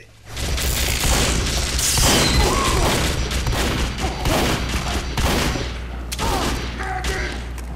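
A video game firefight around a sentry gun, heard from a Medic's side: dense, loud bursts of rapid gunfire and booms rattle on continuously for several seconds.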